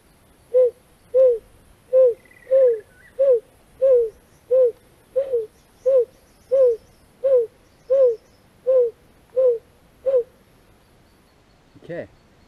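A person imitates the Narina Trogon's call by puffing out the cheeks, giving about fourteen low, evenly spaced hoots in a steady rhythm, close and clear against a quiet outdoor background, with a short voiced sound near the end.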